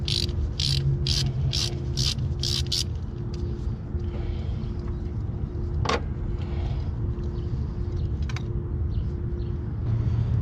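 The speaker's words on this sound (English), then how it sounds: "Take your 5/8 spark plug socket." A ratchet with a 5/8 spark plug socket loosens a spark plug on a 2001-2008 Ford Focus. Six quick bursts of close, sharp clicking come first, then a lone click over a low steady rumble.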